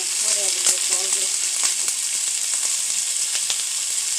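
Vegetables for a low-sodium Chinese-style vegetable curry sauté in a hot pan, giving a steady broadband sizzle with a few brief spatula scrapes and a faint voice-like tone near the start.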